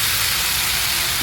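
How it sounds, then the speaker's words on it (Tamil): Rice flour and buttermilk batter pours into a hot pan, giving a steady, loud hiss and sizzle that stays even and continuous throughout, with no voices. "இந்த மாவு, பச்சரிசி மாவு மோர் கலவையை வானலில் ஊற்றிடுறேன்."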